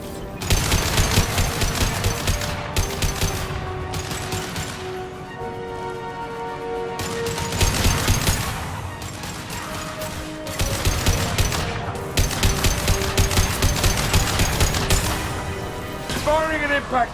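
Rapid bursts of gunfire and an impact shot crack out in Mass Effect 2 Legendary Edition gameplay, loud volleys stopping and restarting with brief gaps between them.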